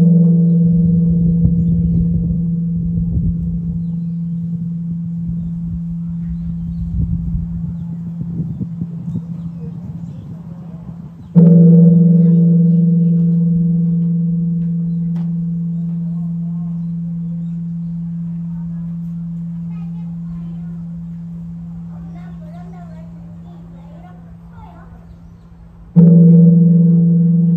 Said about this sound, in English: if you hear the sound of the bell right now